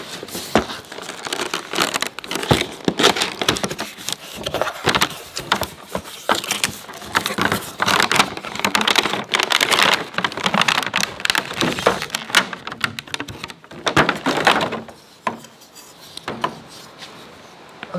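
Tape being peeled and torn open on the side of a Chemical Guys Big Mouth foam cannon box, with dense crinkling and rustling of cardboard and packaging up close, continuing for most of the stretch before easing off near the end.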